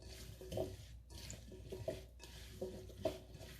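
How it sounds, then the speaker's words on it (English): Potatoes are tossed and mixed together in a bowl, producing soft rhythmic scraping and rustling sweeps in repeated bursts, close and quiet. "I'm going to go ahead and mix the potatoes together."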